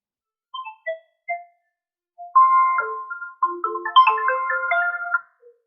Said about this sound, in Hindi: बीच में फोन आ गया था, फोन को हमने डिस्कनेक्ट किया